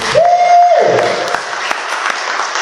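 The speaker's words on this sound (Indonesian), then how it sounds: "Tepuk tangan dong bagi Tuhan Yesus." A church congregation applauds in a dense, steady wash of clapping, opened by a brief sustained tone that fades out.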